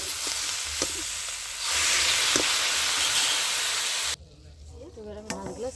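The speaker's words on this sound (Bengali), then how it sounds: "আমি এবারে জল দিয়ে দিচ্ছি" Water goes into a pan of sautéed vegetables for a fish-head and Malabar spinach dish, setting off a loud surging sizzle and hiss that suddenly drops away, followed by a voice talking over a quieter simmer.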